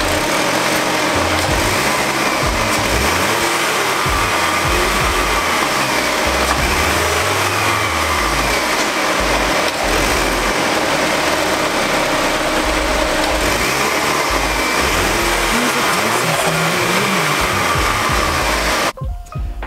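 A Cadillac ATS engine runs with the stock intake still fitted, a loud, steady, close-up droning hum that holds throughout and cuts off abruptly at the very end.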